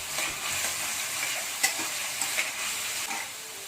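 Chicken frying in a pan with capsicum and onion, a steady close sizzle with a few sharp clicks and spatters of stirring throughout, no voices.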